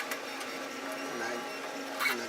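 An FLSUN QQS 3D printer running its first test print makes a soft whirring hum with faint mechanical ticks and small stepper-motor whines. It sounds close but low in level, with no speech.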